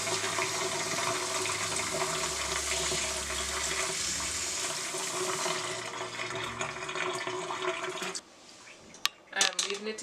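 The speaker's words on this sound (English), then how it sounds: "I am adding the cold water to wash off the extra starch" Cold tap water runs steadily over rice being rinsed to wash off starch, a continuous rushing pour filling a pot for about eight seconds, then stopping, followed by a few faint clinks and handling noises.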